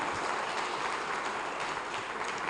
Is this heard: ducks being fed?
no